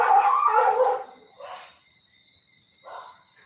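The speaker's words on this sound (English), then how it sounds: "So those dogs next door now start barking because you know they smell" Dogs next door barking and howling, a loud burst at first, then two shorter, fainter calls separated by quiet.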